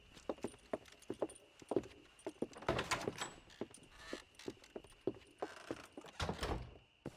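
Horse hooves clip-clopping in Red Dead Redemption, a brisk irregular run of close hoof knocks with rattling tack and a few heavier thuds, moderately loud with no talking.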